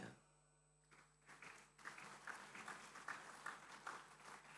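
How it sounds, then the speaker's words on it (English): Faint audience applause at a university degree convocation ceremony, starting after a quiet moment and swelling into steady scattered clapping from a distant crowd. "we need to keep the applause going strong"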